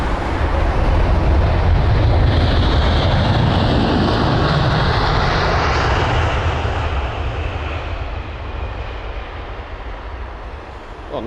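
An American Airlines Boeing 777-200ER lands at London Heathrow, giving a loud, steady roar of reverse thrust that swells for a few seconds and then slowly fades, with no voices.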